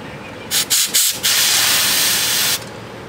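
Compressed air blasting grease out of a boat trailer wheel hub: a few short hissing bursts, then one long loud sustained blast that cuts off abruptly, close and with no talk.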